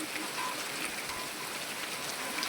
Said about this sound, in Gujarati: કેમ પડે ને પણ વરસાદ જોરદાર